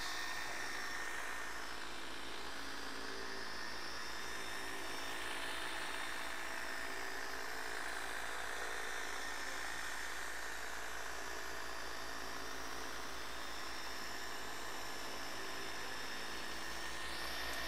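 A power buffer polishes the paint on a 1968 Firebird convertible, giving a constant whirring motor drone that holds steady and fairly faint throughout, without pauses or talking.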